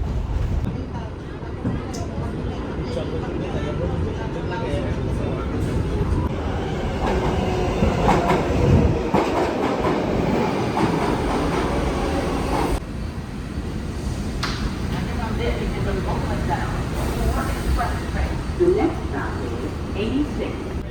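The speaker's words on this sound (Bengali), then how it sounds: "আমরা সিক্স ট্রেনে উঠছি" A New York City subway 6 train rumbles loudly along the tracks with rattling and clacking, while people talk in the background throughout.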